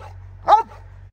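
A Cane Corso protection dog on a pig farm gives a single sharp, loud bark, close by, over a low steady hum.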